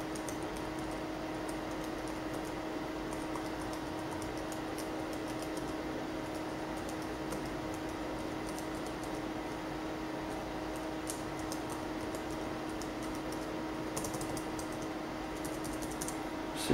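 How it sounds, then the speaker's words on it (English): Light, steady typing taps on a Toshiba Portege M500 laptop keyboard, faint and continuous over a low fan hum, with no speech. "Just bring up a blank Word document, go ahead and type some stuff on the screen."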